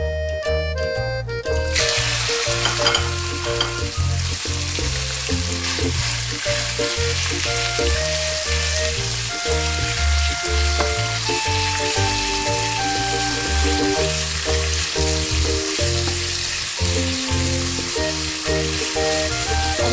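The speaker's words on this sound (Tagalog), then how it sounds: "So, mainit na yung mantika. Ilalagay muna natin itong meat natin bago yung luya." Meat dropped into hot cooking oil in a pan, a loud continuous sizzle with crackling spatter throughout, accompanied by steady background music.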